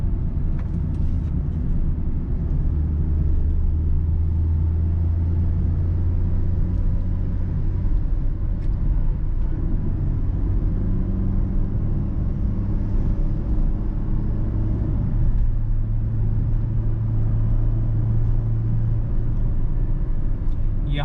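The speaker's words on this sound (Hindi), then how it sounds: "I am revving the engine past 3000 RPM in 3rd gear" A Maruti Suzuki XL6 automatic climbs a hill road with the engine revving past 3000 RPM in third gear, giving a steady low droning rumble from inside the cabin.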